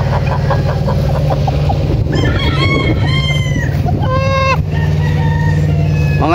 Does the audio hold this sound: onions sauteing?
no